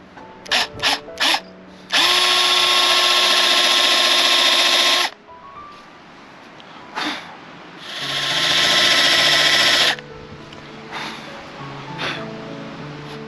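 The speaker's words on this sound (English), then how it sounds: "then I'll drill so I can put the eyes in later" A power drill whirs in two long, loud bursts into a wooden owl carving, with short trigger taps before and between, close up, with quiet handling noises in the pauses.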